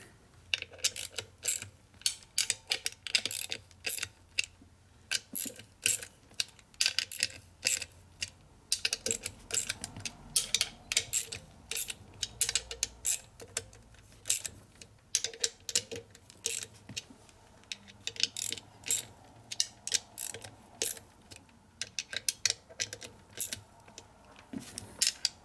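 Ratcheting torque wrench clicks on helicoiled cylinder head bolts of a 1949 Harley-Davidson PanHead 74ci engine during a rebuild, coming as steady close bursts of sharp clicks with brief pauses between pulls.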